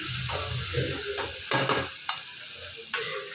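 Rice stir-fry sizzling and frying in a pan as garam masala is added, a steady hiss broken by several sharp scraping stirs of a spoon, close and clear.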